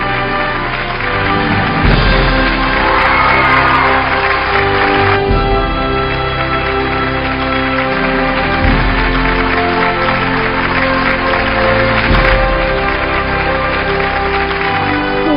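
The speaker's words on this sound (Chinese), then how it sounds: "掌声有请" An audience at an award ceremony for a Suzhou storytelling television programme claps steadily throughout, loud and sustained, with some music tones mixed in.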